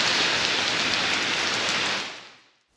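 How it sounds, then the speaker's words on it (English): Dense, hissing rain pours down steadily, loud and close, then fades out abruptly near the end. "can you hear all the rain?"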